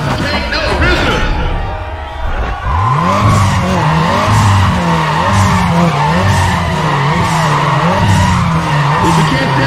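Racing engines roar as tires squeal repeatedly in long sliding screeches, loud and continuous throughout, in Need for Speed ProStreet at Willow Springs.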